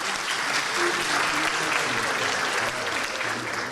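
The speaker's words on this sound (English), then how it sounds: "We want to give them a round of applause and thank them for doing this for us today." A crowd claps enthusiastically, a dense burst of applause that holds steady for a few seconds.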